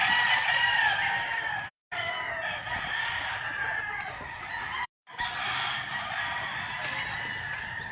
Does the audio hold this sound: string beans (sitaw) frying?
no